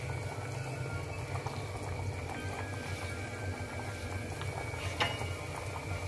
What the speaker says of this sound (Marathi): तर तेल गरम झालंय त्यामध्ये मी टाकते आता हळद